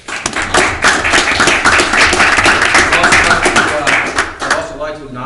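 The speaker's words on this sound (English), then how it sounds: "Let's give the sergeant a round of applause." A township meeting audience claps for a sergeant, a dense, steady round of applause from many hands sustained for about four seconds before tapering off.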